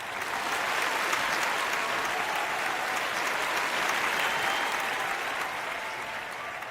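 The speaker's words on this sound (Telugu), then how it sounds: "కాబట్టి ఆద్య మాథుర్కి కూడా క్లాప్స్." An audience claps for Aadhya Mathur at a school Founders Day stage event, dense steady applause from many hands that keeps going at an even level and fades slightly at the end.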